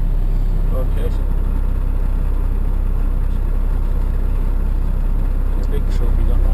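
A heavy goods vehicle's diesel engine rumbles steadily from inside the cab while driving, a continuous low drone throughout with faint cab noises over it.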